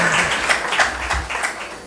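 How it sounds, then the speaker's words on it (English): An audience at Asha Parekh's book launch gives a loud round of applause to chief guest Salman Khan, with sustained, close crowd clapping and scattered sharper claps throughout. "A big round of applause for him."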